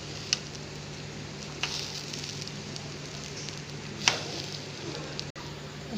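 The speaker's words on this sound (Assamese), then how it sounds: "তাৰপিছত আকৌ লৰাই থাকিব এইখিনি" Sweet pulao frying and being stirred in a pan, a steady soft sizzle with a few faint scrapes and clicks of the spoon spaced through it.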